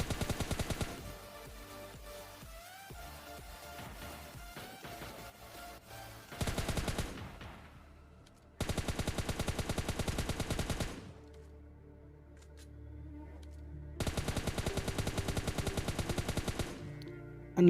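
Automatic gunfire rattles in PUBG Mobile Lite as bots are shot, loud rapid bursts separated by quieter game ambience and a short pause.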